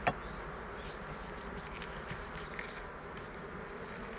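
Honey bees drone steadily from an open hive colony in spring, a dense continuous buzz close by with no talking.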